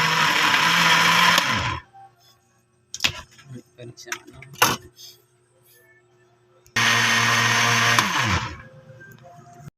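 A blender mixing a milk drink made with Bear Brand milk, whirring loudly for about two seconds, then pausing amid brief clicks and knocks before running again in a second loud burst of similar length.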